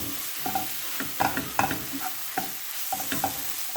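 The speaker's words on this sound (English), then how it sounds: "I continue frying." Tomato paste frying in a pan with a soft steady sizzle, punctuated by repeated scraping stir strokes about every half second, close and without talk.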